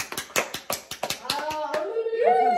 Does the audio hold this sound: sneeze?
no